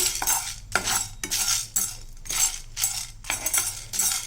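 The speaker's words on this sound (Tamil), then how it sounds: "நம்ம எடுத்து வச்ச வரமிளகாய் தனியா கடலைப்பருப்பு உளுத்தம்பருப்பு சீரகம் இதெல்லாம் நம்ம இதில் போட்டு நல்லா வறுத்துக்கலாம்" Red chillies, coriander seeds, chana dal, urad dal and cumin are dry-roasted in a pan without oil, with repeated close scraping and rattling strokes of a metal spatula in a steady rhythm.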